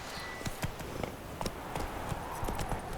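Horse hooves clip-clop in a steady quick rhythm of galloping in The Witcher 3, a fantasy video game, fairly faint and without speech.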